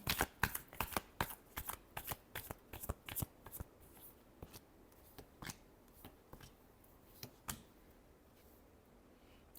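A deck of tarot cards is shuffled close by, giving crisp riffling flicks in quick bursts at first, then thinning to scattered, softer taps against a quiet background.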